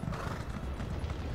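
In a video game, a horse is ridden up a hill, its hooves clip-clopping in a quick, even rhythm. The steps sound fairly close but soft, with no talking over them.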